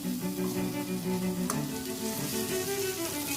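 Dal pakwan masala with coriander-cumin powder and garam masala sautéing in a pan, a dense, continuous close sizzle with stirring scrapes and one sharp clink partway through, no voices.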